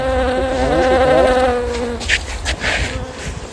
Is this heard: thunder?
no